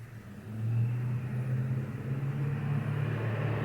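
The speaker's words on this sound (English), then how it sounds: "every diesel truck or work truck that drives by because it's new construction, you gonna hear that too." A diesel work truck passes outside a garage near a new construction site, its low engine rumble steady and moderately loud, swelling slightly then holding as it drives by, with no voices.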